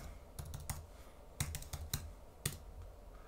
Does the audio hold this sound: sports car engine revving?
no